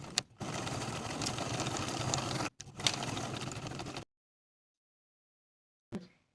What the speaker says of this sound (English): Sew from the top of the pant to the dot transferred from your pattern piece